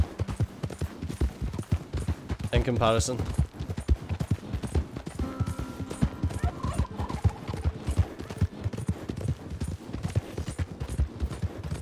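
A fast horse's hooves clip-clop steadily in Red Dead Redemption 2 gameplay, a continuous rhythmic patter with brief animal calls, while someone talks over it.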